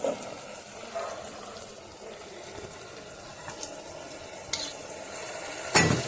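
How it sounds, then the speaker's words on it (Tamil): Ground tomato and onion paste sautéing in a pan for fish curry: a steady low sizzle runs throughout with soft stirring scrapes, broken by a few sharp utensil clinks near the end. "இதையும் நம்ம மிக்சியில் அரைச்சதும் சேர்த்து இப்படி நல்லா வதக்கணும்"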